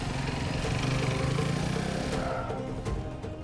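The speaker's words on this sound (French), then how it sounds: "Ashok, arrête la moto." A motorcycle engine runs steadily at close range with a continuous mid-pitched drone that holds fairly level, easing off slightly near the end, with no talk over it.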